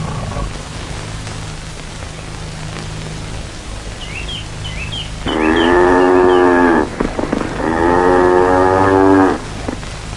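Cattle low in two long, loud moos, one after the other, close by over a steady noisy background with faint bird chirps.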